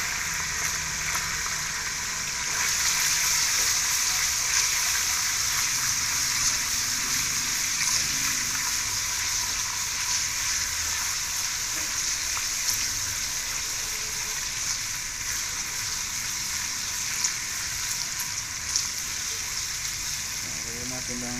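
Garlic sizzling in cooking oil in a home kitchen while a pork ham dish is prepared, a steady broad hiss and crackle that runs the whole time and swells slightly after the first couple of seconds.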